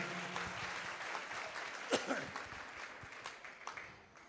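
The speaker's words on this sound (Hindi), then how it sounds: "आप मुझे तालियों का अनुदान दे दीजिए" Audience applause at a kalash sthapana ceremony in Lalitpur, Uttar Pradesh: steady, moderately faint clapping from a crowd, with a few louder claps standing out near the middle.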